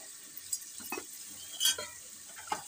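Cauliflower frying in oil with turmeric, cumin, coriander and chili powder, a soft sizzle punctuated by intermittent scrapes and clinks of a spatula stirring the pan.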